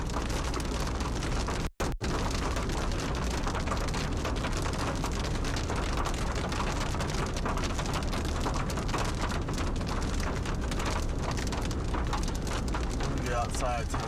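Rain falls hard and steadily during a stretch of severe storms, a dense, loud rush of drops spattering on surfaces with no break except one brief dropout, and no voice over it.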